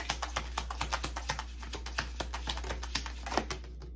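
Tarot cards shuffled by hand in a rapid, even run of crisp flicks and riffling taps lasting several seconds, close and fairly quiet over a low steady hum.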